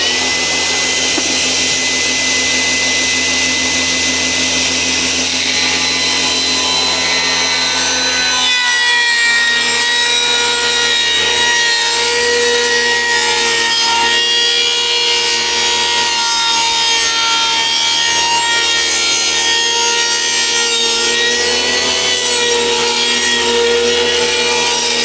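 A power saw rips a wood board guided by feather boards to cut drywall butt boards, a loud continuous grinding whine with a brief dip midway as the blade cuts on through the wood.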